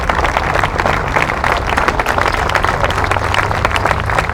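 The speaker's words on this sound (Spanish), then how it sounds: "Si alguien se merece en este debate un aplauso, es el dictamen de Alejandra Gils Carbó." Sustained audience applause at a political talk in Córdoba, a dense, steady wash of many hands clapping at full loudness for the whole stretch, with no voices rising above it.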